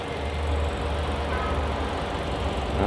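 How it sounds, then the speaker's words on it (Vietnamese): Engine of a 2018 Hyundai Accent idling up close, a steady low hum with a constant broadband rumble throughout. "máy con xe này là êm ru luôn quý anh chị nhé, máy móc êm ru quý anh chị ạ"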